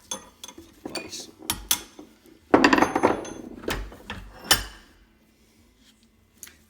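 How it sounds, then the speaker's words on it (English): A hammer strikes the flywheel of a Stihl MS180 chainsaw clamped in a vise, giving several sharp metallic knocks with a denser burst of clanking in the middle, then quiet. "I tried to kind of hold around the flywheel and hold up on it as I struck it"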